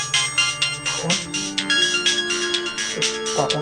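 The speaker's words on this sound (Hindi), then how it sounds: "पापा का ही फोन आ रहा है।" A mobile phone ringtone plays in a home, a repeating electronic melody that sounds loud and close for several seconds with no talking over it.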